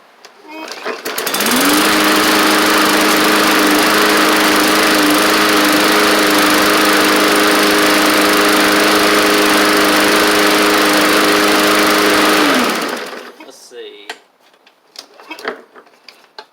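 A Bolens push mower with a freshly freed Briggs and Stratton OHV engine starts and runs loud and close with a steady, buzzing drone, then cuts off abruptly, leaving a few faint handling clicks and knocks.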